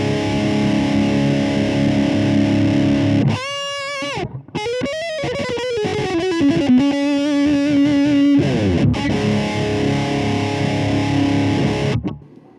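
A loud, distorted electric guitar plays chords and a sustained lead line through a Donner Cyclops amp, with reverb and delay trailing into a washy tail before cutting off.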